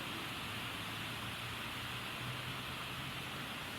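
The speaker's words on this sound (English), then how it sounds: "As you can hear, it's raining pretty good outside today." Steady hiss of heavy rain falling outside a workshop, a continuous broadband wash with no talk over it.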